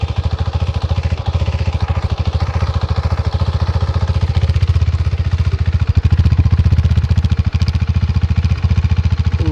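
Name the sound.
KTM 390 Adventure motorcycle exhaust note idling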